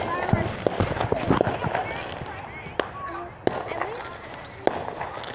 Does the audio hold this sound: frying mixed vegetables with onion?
no